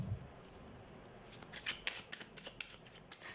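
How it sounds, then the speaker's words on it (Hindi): A deck of tarot cards is shuffled by hand, making soft, close riffling and flicking in quick uneven bursts against a quiet background. "हम कार्ड शफल कर लेते हैं"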